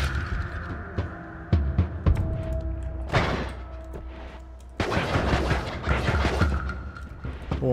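Explosions in the pixel-physics game Noita: a series of heavy booms and crackling blasts, some isolated, others bursting in dense loud clusters, over a low continuous game rumble and droning tones.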